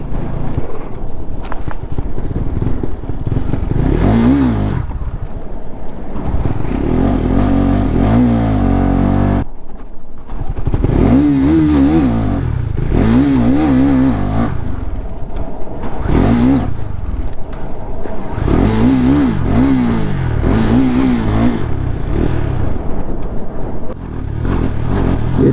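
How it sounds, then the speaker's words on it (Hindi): A KTM motorcycle engine roars at full throttle while riding at about 50 km/h, with a loud, continuous drone, repeated revving surges and heavy wind rumble. "देखो पूरा का पूरा भाई थ्रोटल दे रखा हूँ मैं, और गाड़ी भग रही है भाई 50 की स्पीड में गया भाई"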